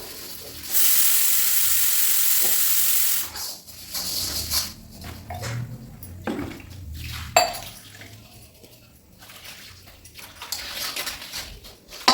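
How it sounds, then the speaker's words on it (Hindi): Burnt cooking pots and pans are washed by hand while squatting, with a loud burst of running water followed by scattered metallic clanks, scrapes and splashes up close, some sharp knocks standing out. "तो हम ये वाले बर्तन हमेशा बैठकर ही धुलते हैं"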